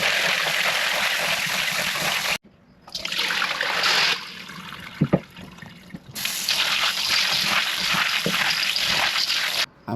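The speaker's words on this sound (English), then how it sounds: "I'm going to wash 2 cups of red peas, put them to soak in 4 cups of water." Tap water runs and splashes over red peas being washed and put to soak for Jamaican rice and peas, a steady close stream broken by a few brief pauses.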